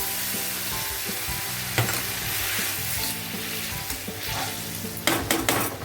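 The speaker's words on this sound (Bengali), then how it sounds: "এখন আমি কাজু পেস্তা বাটাম কাজু বাটাটা যে আমি রেখেছি মশলা জলটা আমি দিয়ে দিলাম" Spice water poured into a cashew paste mixture frying in a pan sets off a loud, steady sizzle, with stirring scrapes and a few sharp utensil clinks against the pan near the end.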